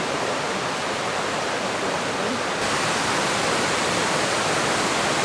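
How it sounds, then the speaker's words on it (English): Falls pour down beside a lake in the Balkans in a loud, continuous, even rush of falling water with no voices over it. "Beautiful falls."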